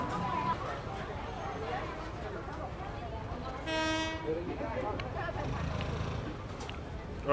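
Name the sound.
train to Mahachai Market passing restaurants in Bangkok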